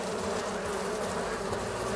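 Honeybees hum around an open hive during a morning hunt for a newly emerged young queen, a dense, steady, close buzz that carries on without a break and with no voices.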